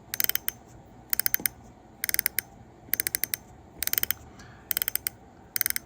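Close, rapid bursts of clicking from the drag clicker of a 2024 Shimano Vanford fishing reel, about seven evenly spaced ratcheting runs of several sharp clicks each, with no voices.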